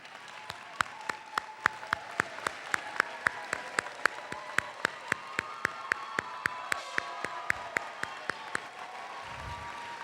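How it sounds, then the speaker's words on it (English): Sustained applause fills a hall at a 2013 College of Alameda graduation ceremony as honors students stand, a dense and steady clapping from a large audience. "Those students that are graduating with honors, please stand for applause."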